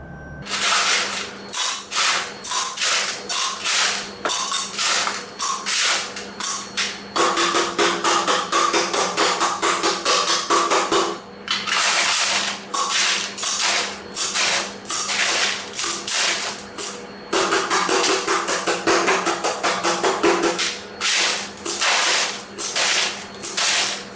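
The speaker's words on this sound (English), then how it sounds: "The aggregate sample is now filled in the metal cylinder in 3 layers, each layer being tamped 100 times with a tamping rod" A tamping rod strikes aggregate packed into a metal cylinder, rapid regular thuds repeated dozens of times in three long runs separated by short pauses, loud and close.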